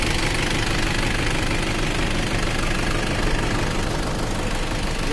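A Toyota Hilux 2KD common-rail diesel engine runs during injector and supply pump purging, a steady, dense, rattling diesel clatter with a knocking texture, loud and close, without any talk.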